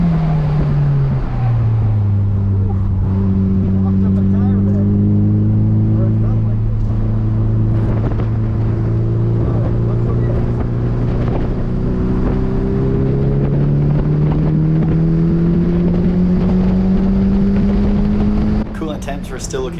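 A Nissan Silvia at full throttle during a time trial at Mission Raceway, its engine droning loudly with pitch climbing through the gears under wind buffeting, heard from inside the car while a person talks over it.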